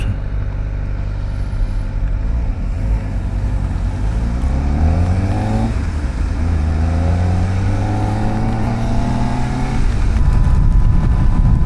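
A 2025 Kawasaki Ninja ZX-4 RR idles near 1600 rpm, a close, loud, steady engine drone that holds an even tone with slight waver throughout.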